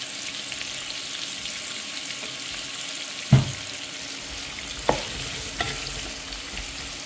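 Vegetables with salt cooking in a pan for sambar, giving a steady soft sizzle with occasional stirring knocks and clatters of a utensil, close and moderately quiet, with no talk.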